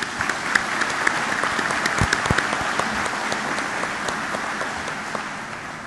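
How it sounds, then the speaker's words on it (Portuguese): A conference audience applauds the participants of a debate panel, sustained dense clapping from a sizeable crowd in an indoor hall, steady and fairly loud, tapering slightly toward the end. "queria pedir que todos aplaudissem os participantes"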